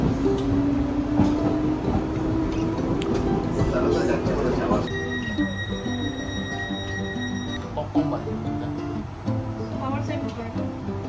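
A vintage steam train on the Isle of Wight Steam Railway rumbling along with rhythmic clatter and a brief high whistle-like tone midway, while people talk over it.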